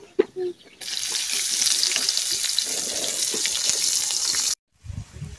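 Cumin and coriander spices sizzle in a hot pan for an egg and lentil dal curry, a steady loud frying hiss after a few brief knocks, cutting off abruptly near the end.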